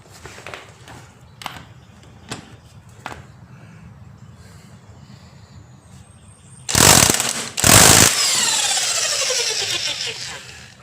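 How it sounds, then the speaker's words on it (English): Pneumatic impact wrench hammering on a motorcycle's front sprocket nut during a Kawasaki Versys 650 chain and sprocket change: two sharp, loud bursts of rattling impacts, then a long sustained whirring run, with a few faint clanks and footsteps beforehand. "We're going to hit it with the impact wrench and see if we can loosen this thing up there"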